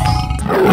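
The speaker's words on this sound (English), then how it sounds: "Tiger." Tiger roar in a children's animal-sounds sequence, a single short, loud growling burst that swells toward the end with no talk over it.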